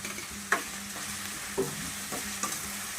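Tomato pieces fry with onion and ginger in a pan for cauliflower curry, a soft, steady sizzle with a few distinct spoon taps and scrapes spaced about a second apart, fairly quiet and close.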